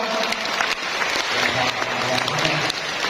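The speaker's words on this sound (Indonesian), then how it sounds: "bolehkan tepuk tangan juga untuk Pak Handoko ya" Applause from an audience at a community family-planning event in a hall in Jember, steady and moderately loud across the clip, with some voices mixed underneath.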